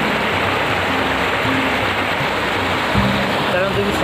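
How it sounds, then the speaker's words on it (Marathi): Loud, steady rushing of stream water at a village landmark site, a dense continuous roar filling the whole clip at close range, with faint tonal traces of a voice barely showing beneath it. "एवढ्या पाण्याचा आवाज होता त्यामुळे माझा आवाज क्लिअर येणार नाही"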